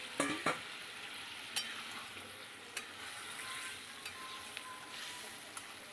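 Paneer pieces fry and get stirred in a pan with yogurt-soaked gravy, a steady soft sizzle broken by a few sharp scraping clicks of the spoon, fairly quiet and close.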